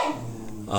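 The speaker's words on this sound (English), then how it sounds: "That was my dog, sorry." A pet dog gives a short bark or yip up close at the end of the moment, over a low steady background hum with no talking.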